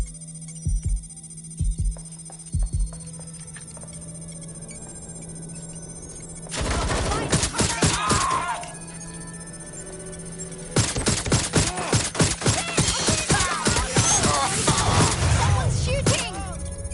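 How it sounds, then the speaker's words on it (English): Gunfire in the video game Watch Dogs Legion: a few isolated shots early, then two long loud bursts of rapid automatic fire crackling close by, with a steady electronic tone underneath. "Someone's shooting!"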